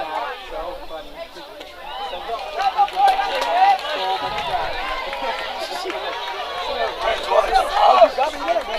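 Rowdy crowd at a high school baseball game between Friendswood and Santa Fe, with a dense, continuous mix of shouting, cheering and chatter nearby that swells and falls over several seconds.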